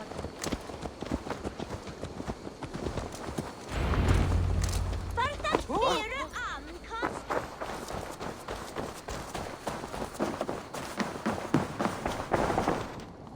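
A horse's hooves thud and clop in the Assassin's Creed Valhalla video game, walking at a steady pace under music and a voice speaking.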